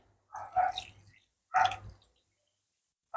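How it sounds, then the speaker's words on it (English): Water is poured in two short splashing bursts into a thick Jamaican variety porridge made with cornmeal, close up, with quiet pauses between and the start of a third pour at the end. "I'm gonna add a little more water to it because it's kind of too thick."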